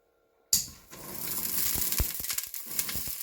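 Butter dropped into a hot pot for Jamaican steamed callaloo and saltfish hits with a sudden burst, then settles into a steady close crackling sizzle with a few light pops, no talking.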